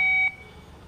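A Power Probe circuit tester gives a single clear electronic beep as its tip touches a ground point, a steady tone lasting about a quarter second before cutting off to quiet background.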